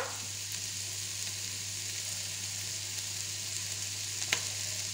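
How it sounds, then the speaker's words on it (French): Garlic frying in a pan while being stirred and scraped from the sides, a loud, even sizzle with a few soft scraping knocks, close and without talk. "notre ail, et on remue, on décolle sur les côtés"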